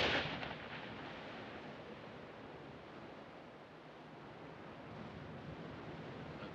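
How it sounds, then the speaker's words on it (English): Steady ocean surf breaking on a shore, a continuous broadband wash that swells at the start and then rolls on evenly, with wind buffeting the microphone and no voices. "That and them damn waves flopping in all day long."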